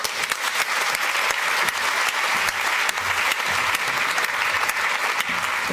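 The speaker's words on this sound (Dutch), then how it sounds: "Onze tweede gast, en verwelkomt u ook graag met een applaus, Jet Bussemaker." An audience applauds to welcome a guest, a former Dutch education minister, onto the stage at a talk on sexism and business: loud, dense, sustained clapping with sharp individual claps, filling the whole stretch without speech.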